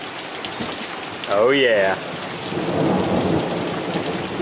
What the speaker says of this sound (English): There has been some awesome lightning and thunder.